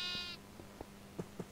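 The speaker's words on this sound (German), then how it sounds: "Doofes Schaf." A sheep from the Minecraft video game bleats once in a short, clear, nasal cry, followed by a few soft, scattered game clicks and thuds.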